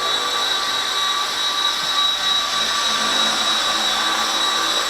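A small V913 RC helicopter's electric motor runs indoors with a steady, high-pitched whine and a constant tonal buzz. It is loud and unbroken, with no voices.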